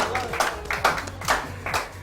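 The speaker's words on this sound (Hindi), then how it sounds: "बहुत सारी तालियां राहील के लिए।" Clapping from the audience after Raheel's powerful Punjabi song at a singing competition's grand finale: bursts of hand claps come in a loose rhythm under a background voice.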